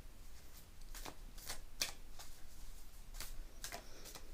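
Lightworkers Oracle cards are shuffled by hand in quick riffling bursts, several crisp rustling strokes close up with short pauses between them.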